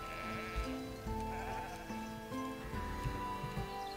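Sheep bleating on a sheep farm in a city-building video game, several repeated bleats layered over steady background game music, fairly loud and without talk.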